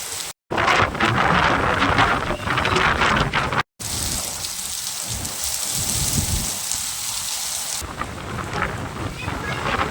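Rain pours steadily in Nagpur as a broadband hiss that stays loud and close throughout, briefly cut twice, with faint rumbling that may be thunder and no voices.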